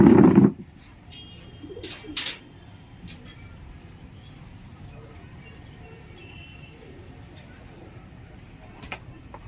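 Pigeons in their coop give soft, low cooing, faint and intermittent against a quiet background, after a brief loud thump at the very start.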